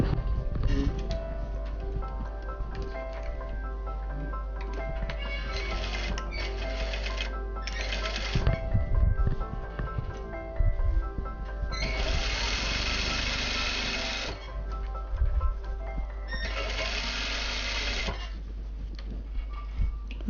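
A sewing machine stitches a shirt seam in sustained runs, its motor humming and whirring close by and rising louder in several bursts across the stretch, with no talking.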